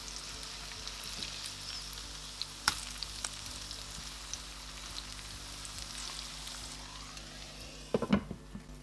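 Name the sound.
cabbage and chicken cutlets frying in covered pan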